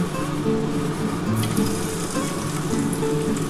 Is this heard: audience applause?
no